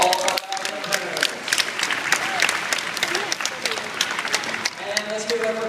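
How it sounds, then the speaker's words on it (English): A live stunt-competition crowd at a university event applauds its competitors with sustained, dense clapping and cheering. A host's amplified voice comes in over it at the start and end. "Let's get a big round of applause for all of our competitors."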